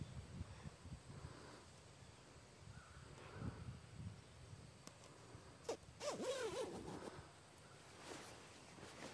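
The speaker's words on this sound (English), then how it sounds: "zip this back up" A sleeping bag zipper is pulled closed at a camp sleep setup, a quiet rasping zip with rustling fabric, brief and close with no talk.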